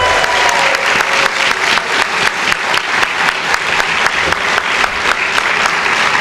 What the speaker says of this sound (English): We have another round of applause for all of our honorees.